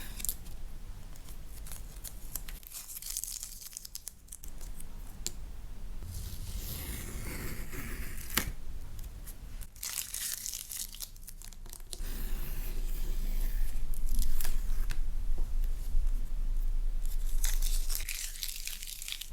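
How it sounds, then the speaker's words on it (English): Masking tape comes off the edge of a freshly painted sunset-over-water canvas in a run of close, crisp peeling and tearing strips, with crinkling paper sounds, quiet and intimate. "I'm going to remove the masking tape."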